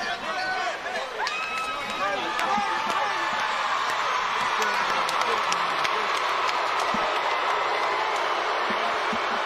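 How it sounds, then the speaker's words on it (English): At a boxing match, a crowd applauds and cheers in a broad, steady roar of clapping, heard at a distance beneath commentators talking. "The crowd showing their approval and their appreciation."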